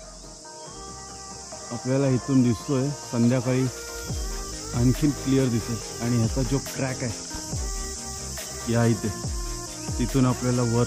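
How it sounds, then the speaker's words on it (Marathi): Crickets chirp in a continuous high, steady drone from the forest at about 7:30 in the evening on the trail to Harihar fort, while someone talks close by over them. "आता 7:30 वाजलेत तरी सुद्धा रातकिड्यांचा आवाज येतोय।"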